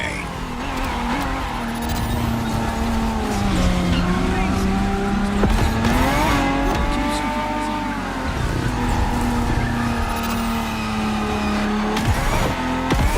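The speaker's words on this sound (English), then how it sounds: "For this second lap, you'll be driving the FXXK." A Ferrari FXXK lapping a circuit in The Crew Motorfest: loud, close engine howl rising and dipping through shifts, with bursts of tire squeal and skidding as it corners.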